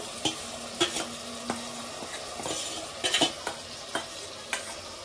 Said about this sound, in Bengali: ম্যারিনেশন করে রাখা মাংসটা এতে দিয়ে দিলাম।